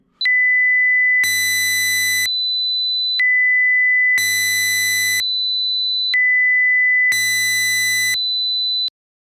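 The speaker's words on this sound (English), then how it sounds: "it is a proper sine wave. Not distorted, it's a proper sine wave" Pure, steady sine tones recovered from a decoded FM stereo broadcast, alternating with brief buzzy bursts in a repeating three-cycle pattern, loud and clean with no voices.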